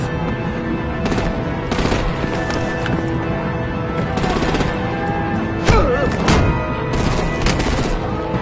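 Gunfire and artillery in the Batman: The Enemy Within video game, with repeated bursts of shots and heavy blasts over a dense, continuous game soundscape of action and music, loud throughout.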